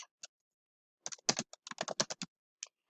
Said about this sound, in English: you can go ahead and start typing your response